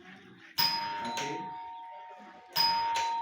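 Two bright rings from an electric doorbell as its push button is pressed to close the circuit in a demonstration of a residential electrical installation, each a sharp ding with a lingering tone, while someone speaks in Portuguese.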